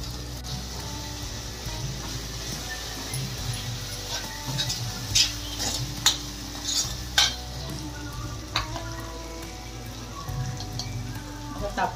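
Ginger garlic paste sizzling in a hot pan for rajma, a steady crackling fry with irregular scraping stir strokes and spoon taps, close and moderately loud.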